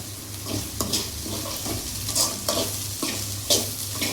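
Onions sauté in an oily pan for okra curry, a steady sizzle broken by repeated stirring scrapes of a utensil against the pan.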